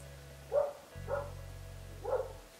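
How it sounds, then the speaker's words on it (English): A dog barks three times at a moderate distance, evenly spaced, over a low steady hum. "There's a dog barking."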